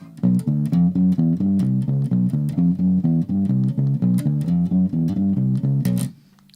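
An electric bass plays a fast, steady repeating finger-plucked warm-up pattern, evenly rhythmic and prominent, stopping abruptly near the end with no talking.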